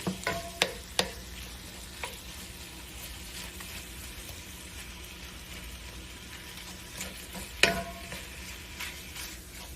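Crumbled breakfast sausage browning in a hot pan gives a steady, soft, close sizzle, broken by a few sharp utensil clicks and scrapes near the start and once later, with no voices.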